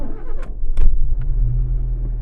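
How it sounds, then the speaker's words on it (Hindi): A car with an OBD scanner module connected starts up: a short cranking clatter, then the engine catches and settles into a steady, close, low idle rumble. "अब मैं गाड़ी को स्टार्ट भी कर लेता हूँ,"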